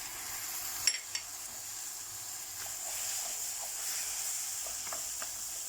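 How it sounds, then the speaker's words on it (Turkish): Tomatoes dropped into burgu pasta roasting in a pan for meyhane pilaf, with a steady soft sizzle and a couple of sharp spattering pops near the start, then continuous low frying hiss. "Kavrulan burgularımızın üzerine en son olarak domateslerimizi ilave ediyoruz"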